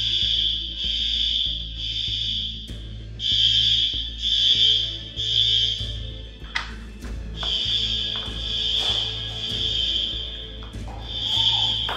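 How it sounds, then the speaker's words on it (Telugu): A fire alarm sounds in an apartment building at night, a loud, piercing electronic tone that blares in repeated long bursts separated by short gaps, with faint rustling and movement underneath. "రాత్రి 5 అవుతుంది మా, ఫైర్ అలారం."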